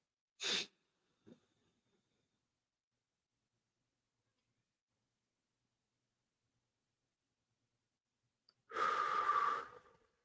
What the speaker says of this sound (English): Inhale peace.